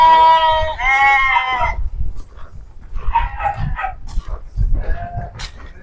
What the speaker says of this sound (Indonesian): Dan domba tuh inget ya, dia posisi kandangnya sebelah mana, dia bakal balik ke tempatnya masing-masing seperti semula.